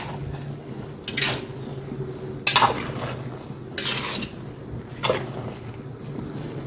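A few scraping, clinking stirs of chicken biryani rice in a pot, spaced out with a steady low hum underneath; no talking.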